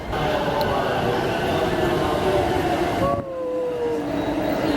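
A train rumbles loudly and steadily alongside a busy station platform in Japan, with a faint metallic squeal rising near the end as it moves.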